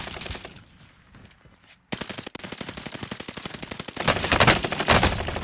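Rapid automatic gunfire from Call of Duty: Warzone Pacific Caldera rattles in long bursts, a brief lull and quieter shots giving way to loud, sustained sprays that build louder toward the end.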